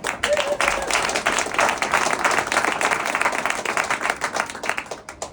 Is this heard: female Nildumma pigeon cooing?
no